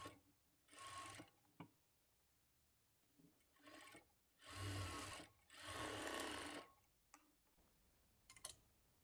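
Sewing machine stitching a kurti shoulder seam: several whirring bursts of uneven length, the longest about two seconds, separated by quiet pauses with small mechanical clicks, close and alone with no talking.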